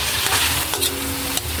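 Chicken seasoned with black pepper is stirred in a sizzling pan for a Filipino tinola with coconut milk, giving a dense, loud hiss with brief scraping strokes of the spoon.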